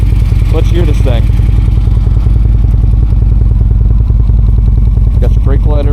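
A 2015 Harley-Davidson Street Glide Special with a twin cam engine idles loudly and close by in a steady, rumbling rhythmic beat, while a voice talks over it at the start and again near the end.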